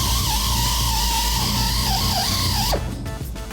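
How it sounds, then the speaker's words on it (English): A rubber eraser wheel on a power tool grinds pinstripe off the paint of a square-body K-10 truck, a steady whining squeal with a wavering pitch that cuts off abruptly near the end. "get you a rubber eraser wheel."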